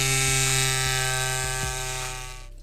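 A Cycplus electric pump inflates a Brompton folding bike tire with a steady, close motor whine and a few faint rhythmic clicks, then cuts off just before the end; no talking.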